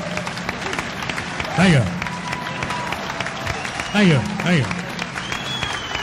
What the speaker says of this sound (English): Go ahead, keep applauding.